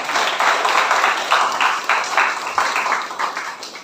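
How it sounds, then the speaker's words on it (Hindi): Audience applause at a gathering, a steady patter of many hands clapping at moderate loudness throughout, tapering slightly toward the end. "जोरदार तालियां उनके लिए।"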